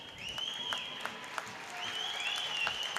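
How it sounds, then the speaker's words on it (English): Spectators applaud at the Morgan Firestone Arena during a junior ice hockey playoff game as an injured goalkeeper rises, producing steady, moderate clapping from a crowd with a few sharper claps and a faint high tonal sound. "to a large amount of applause from the spectators here at the Morgan Firestone Arena"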